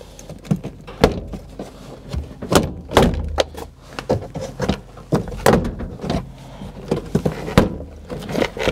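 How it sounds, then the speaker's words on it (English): Sharp plastic clip pops and thunks as a 2011 Subaru Impreza door panel is jolted loose, a dozen irregular close knocks and snaps with rustling between them. "I can grab the door panel right here and just give it a little jolt."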